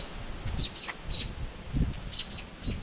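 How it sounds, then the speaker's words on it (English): A mother bird squawks near a nest of feathered-out fledglings, giving several short, sharp chirping calls in scattered bursts over soft outdoor rustling and low wind noise, with no talking. "Mother is squawking, so that's a no."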